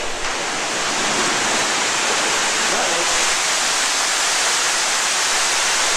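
Rushing water from a walkway waterway at an Anthrocon convention center, a steady loud broadband roar that fills the whole clip with no letup.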